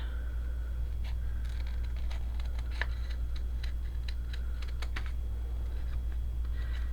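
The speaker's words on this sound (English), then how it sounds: "And we're going to cut that out." Scissors snip through paper while a flower petal is cut out for a pop-up card, producing a series of small crisp clicks and cuts over a steady low hum, with no talking.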